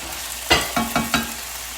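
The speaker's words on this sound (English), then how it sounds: "So I poured the nopales into a hot skillet with some avocado oil." Nopales cactus pads crackle in a hot skillet with avocado oil, with four quick stirring scrapes against the pan over a soft, steady sizzle.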